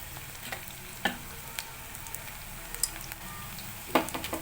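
Onions fry in oil in a home kitchen, a low steady sizzle under occasional sharp spoon taps and scrapes against the pan, close by, with no speech.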